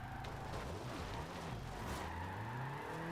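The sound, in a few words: car spinning out in Forza Horizon 2, a video game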